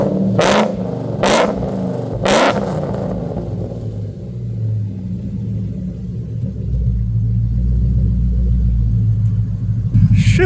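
An SVT-swapped Mercury Marauder, about 20 years old with a dragging caliper, gives three sharp, loud revs up close, then drops to a deep rumbling idle that swells slightly before another blip.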